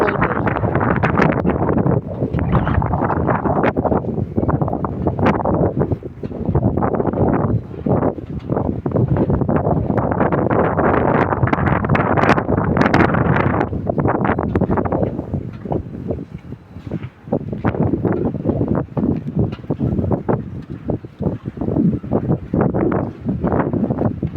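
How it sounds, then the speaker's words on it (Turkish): Strong wind buffets the microphone in loud, continuous gusts, rumbling and crackling throughout with only brief lulls. "Fazla bir rüzgar var"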